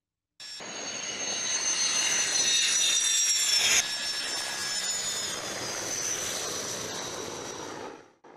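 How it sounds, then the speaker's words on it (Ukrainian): Il-76 military transport aircraft at a field airfield, with a loud, steady jet-engine roar and high turbine whine that holds for several seconds, swells briefly, then fades out at the end. "Міноборони РФ задіяло штурмовики та військово-транспортні літаки Іл-76."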